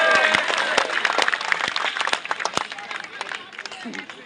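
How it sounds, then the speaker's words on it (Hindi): A crowd at a BJP rally in Madhya Pradesh claps in a burst of sharp, uneven hand claps that gradually thins out, with voices and general hubbub mixed in. "एक बार जोरदार ताली बजा दो मोदी जी के लिए"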